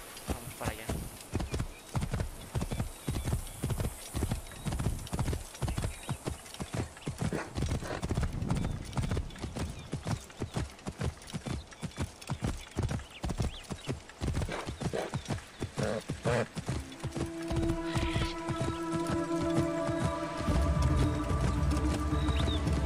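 Horse hooves clip-clop rapidly in a steady galloping rhythm in Assassin's Creed Origins, loud and continuous beneath game ambience, with a whinny and a tonal music swell arriving near the end.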